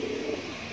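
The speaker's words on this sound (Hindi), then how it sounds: "बंदूम कबूतर है" A bandum pigeon coos softly, a brief low throaty call heard faintly up close.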